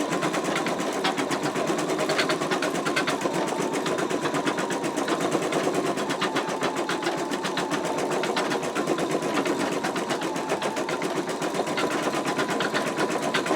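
An embroidery machine stitches out an in-the-hoop wallet with a steady, rapid mechanical chatter and needle rattle, continuous and close throughout.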